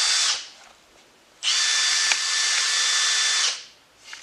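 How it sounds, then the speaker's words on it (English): A cordless power drill whirs in two trigger pulls, a short burst and then a steady two-second run, with a brief start of a third at the end, during install work on a Subaru WRX STI. "Put it on the drill. Tighten it down and you're going to pull the trigger."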